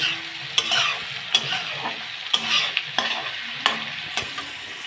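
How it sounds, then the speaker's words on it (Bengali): Cinnamon, cardamom, cloves and cumin seeds crackle in hot oil for a tempering, a bright, steady sizzle broken by sharp spoon knocks against the pan every half second or so. "দারচিনি, এলাচি, লং, সঙ্গে ফোড়ন দিতে থাকে তো জিরা দিই"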